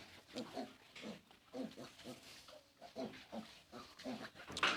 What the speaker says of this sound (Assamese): এতিয়া ৰ'দত খেলি আছে সেই গাহৰি পোৱালিখিনি।